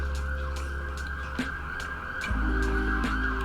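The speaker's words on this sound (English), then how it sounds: "We had some cops blowing by here with the sirens full blast." A loud siren holds a steady high wail with rhythmic pulsing over a deep rumble of traffic, continuous and close throughout.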